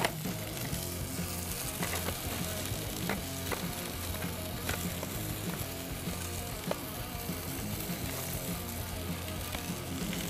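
Spiced salmon sizzles on a hot grill, a steady, dense crackling hiss that holds throughout, close and fairly loud, with occasional faint clicks and no talk.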